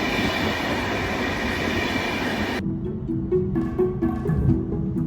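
A train to Vienna rolls along with a loud, steady rumble of wheels on track that abruptly drops to a quieter interior hum with faint squeaks and clatter.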